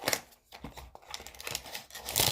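A chocolate bar wrapper is torn and peeled open close up in a few short, crinkly ripping and rustling bursts, fairly faint.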